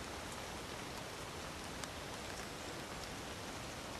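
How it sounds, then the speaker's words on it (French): Torrential rain pours onto a beech forest in the Shirakami-Sanchi mountains, a dense, even hiss of countless drops with occasional sharper patters, continuous and without voices. "Des pluies torrentielles se déversent sur la forêt."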